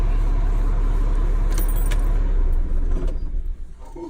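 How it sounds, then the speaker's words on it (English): A truck is shut off with its keys: the low idle rumble holds steady, then cuts out and fades toward the end, with a brief key-jangle clink midway, loud and close. "Go ahead and turn the truck all the way off."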